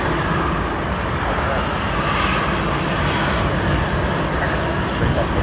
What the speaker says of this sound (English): JL52 has begun its takeoff roll.